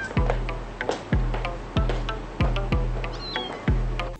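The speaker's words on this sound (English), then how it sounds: "Look at that cat!" A cat meows several times in a scene from the 1990 Japanese horror film Guinea Pig: Devil Woman Doctor, the calls loud, close and repeated at a steady rhythm over a low droning background.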